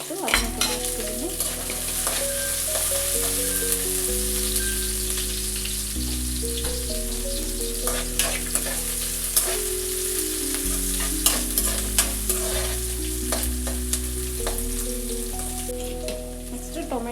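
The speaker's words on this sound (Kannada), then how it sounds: "ಎಲ್ಲ ಚೆನ್ನಾಗಿ ಫ್ರೈ ಮಾಡ್ಕೊತೀನಿ." Green chillies and onion fry in a pan with a steady, close sizzle and repeated stirring scrapes throughout, while tonal background music plays underneath.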